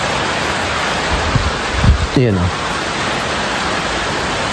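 Heavy rain pounding steadily on a concrete roof deck, a dense, loud, unbroken hiss filling the whole stretch, with a short spoken word breaking through briefly in the middle.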